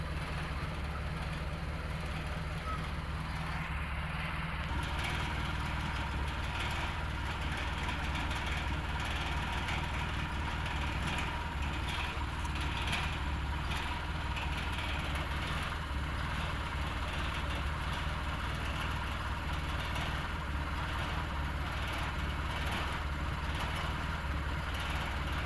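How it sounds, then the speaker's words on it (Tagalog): A 4x4 truck engine idles steadily and quietly, a low continuous rumble with an even, unchanging drone and no talk over it. "maganda yung andar ng ating makina. Tahimik lang."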